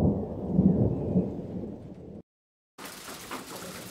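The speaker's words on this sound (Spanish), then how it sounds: "Gotas de lluvia salpicaban mi rostro" Rain and rolling thunder from a storm form the background of a narrated horror story, a loud low rumble over steady rain that drops out briefly before rain hiss returns.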